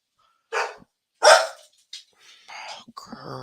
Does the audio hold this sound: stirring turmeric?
no